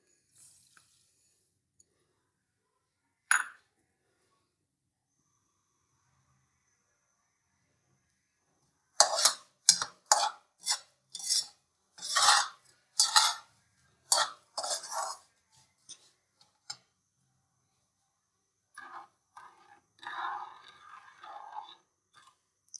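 A metal spoon clinking and scraping in a pot of milk, sugar and golden-fried almonds, in short irregular clusters of crisp taps, close and fairly quiet, with long silent gaps between them.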